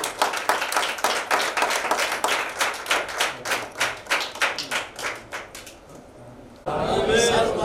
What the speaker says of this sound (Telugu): చప్పట్లు కొట్టి ప్రభువుని